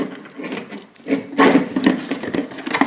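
A screw on a 12-volt light switch being tightened down onto a black wire, giving close, irregular scraping and rubbing clicks in short bursts, fairly loud, with no speech.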